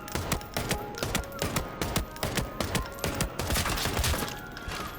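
An AKM rifle fires single shots in Arena Breakout Infinite, a rapid, evenly spaced string of sharp, loud reports with short echoing tails, heard alone without talk.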